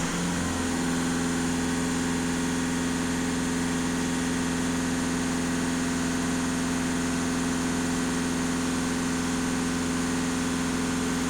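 A VW Touran 1.6 TDI diesel engine runs at raised revs with a steady, loud, close mechanical drone and constant vibration, unbroken for the whole stretch and with no voices.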